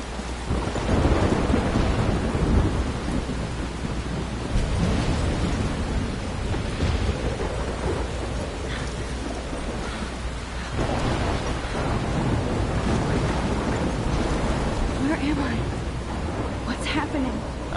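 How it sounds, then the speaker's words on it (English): A thunderstorm in the video game Life is Strange rumbles with heavy rain and rolling thunder, a loud continuous wash of sound with repeated deep booms throughout. "I'm trapped in a storm?"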